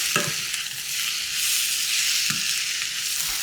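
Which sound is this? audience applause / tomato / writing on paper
tomato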